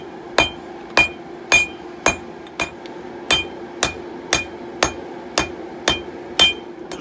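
Hammer striking a knife blade on a 66 pound anvil, thinning the edge, a dozen sharp ringing metallic blows at a steady pace of roughly one every half second, close and alone.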